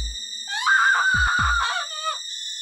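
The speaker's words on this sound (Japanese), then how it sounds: "階下から聞こえる震えるおばさんの悲鳴" An aunt's trembling, wavering scream rises and sustains for over a second in a Clock Tower: Ghost Head horror audio drama, sounding close and loud, then trails off.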